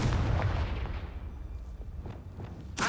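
A Confringo explosive spell cast in Hogwarts Legacy detonates in a heavy, booming blast that rumbles and fades away, followed by another sharp burst at the very end.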